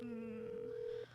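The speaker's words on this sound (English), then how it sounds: "Oh, I hear a phone ringing." A telephone rings with a steady electronic tone that holds for about a second, then cuts off, leaving low room hum behind it.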